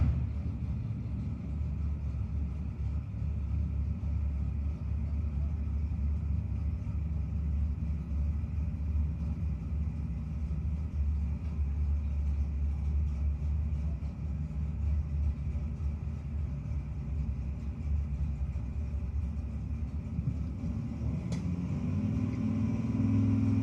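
A drag racing car in a no-box 660 shootout runs toward the top end, a steady loud low engine roar lasting throughout, distant and constant rather than rising sharply.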